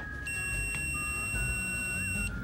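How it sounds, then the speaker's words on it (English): A Sega Dreamcast VMU memory unit emits a sustained, steady high-pitched electronic beep lasting about two seconds, constant in level with a faint hum underneath. "From the sustaining high-pitched beep coming from the VMU"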